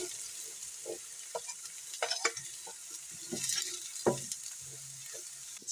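Chopped onion and cabbage samosa filling stirred in a pan, with soft intermittent scrapes and clacks of a spoon over a faint low sizzle, fairly quiet and close, with no voices.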